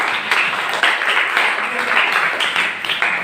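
Classroom applause as students clap for groups answering in a lesson, loud close bursts of uneven hand clapping with irregular individual claps standing out.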